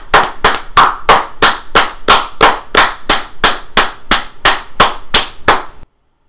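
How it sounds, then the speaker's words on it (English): Several layered people clap in a steady, even rhythm of sharp bursts, about fifteen close claps in a row, then stop abruptly into silence. "So now we have a bunch of people clapping."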